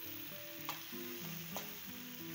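String beans fry in oil in a cooking pan, a steady close sizzle with a couple of brief scraping stirs, no talking.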